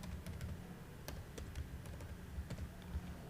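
Someone types a password on a computer keyboard, a quick run of soft, close key clicks in an uneven rhythm over a low background hum, with no voices.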